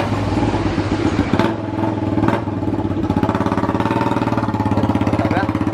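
A Yamaha Jupiter MX motorcycle with a fault that makes it move off as soon as a gear is engaged, its engine running close by with a steady, rapid chugging pulse and a brief rise in revs, with no talking.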